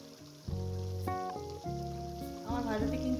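Potatoes and spices sautéing in oil, cooked with goat fat, give a soft steady sizzle with faint stirring noises, close and continuous over sustained tonal background sounds.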